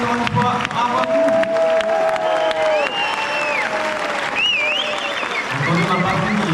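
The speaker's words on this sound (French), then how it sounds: "Nous applaudissons très fort, c'est un spectacle encore une fois," Dense, loud applause from a theatre audience at a festival show carries on throughout, with a performer's voice speaking over the clapping.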